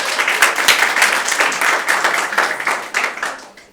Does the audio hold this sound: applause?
yes